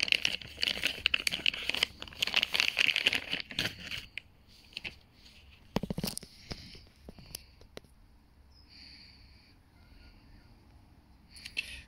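Plastic packaging around a Televue Panoptic 24mm eyepiece crinkles and crackles up close in dense bursts for several seconds, then quieter scattered rustles and a few sharp handling clicks follow.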